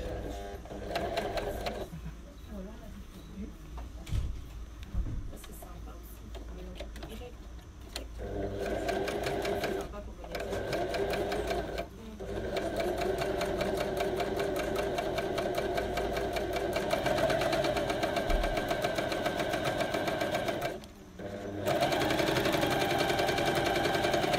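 A coverstitch sewing machine hums steadily as it stitches fabric, running in long continuous bursts with a few brief pauses between runs.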